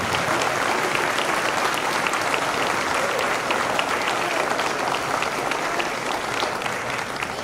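Steady, loud audience applause fills a middle school promotion ceremony as the crowd claps for 8th grade students, dense and sustained throughout without letting up.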